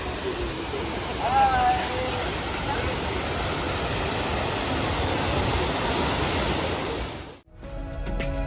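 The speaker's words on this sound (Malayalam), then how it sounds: "ഇതാണ് കേട്ടോ വാട്ടർഫാൾസ്" Forest waterfall at Kundala, Munnar, producing a continuous roaring wash of water that holds steady and full before cutting off abruptly near the end, with a brief voice or whistle-like tone early on.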